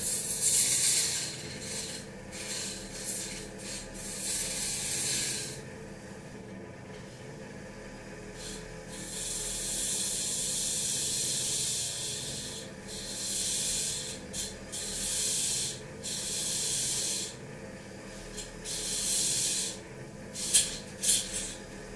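Genuine 1890s Edison brown wax cylinder being trimmed and shaved down into a recording blank, heard as a run of raspy, hissing scraping passes that start and stop irregularly over a faint steady hum, with no talking.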